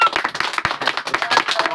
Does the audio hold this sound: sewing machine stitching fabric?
no